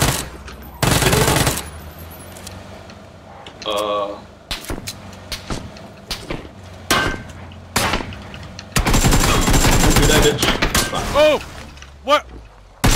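Bursts of gunfire in a video game, with several short loud volleys and single shots spaced irregularly, some longer sustained stretches, while players talk and shout over them.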